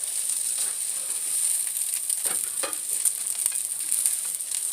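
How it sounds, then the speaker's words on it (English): Salmon patties sizzle steadily in olive oil, a continuous bright crackling hiss with a few soft scrapes and clicks from a spatula, close and alone. "I've never cooked them in olive oil before."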